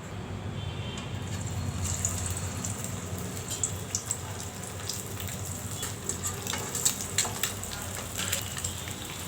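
Egg vadai fry in hot oil in a pan on the stove, a steady near hiss with scattered soft pops and crackles throughout, no one talking.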